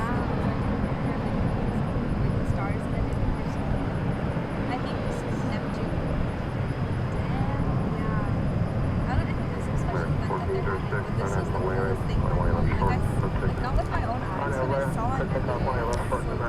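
Airliner in Medal of Honor special livery at DFW International Airport, a steady broadband engine roar heard from a distance, with people talking over it throughout.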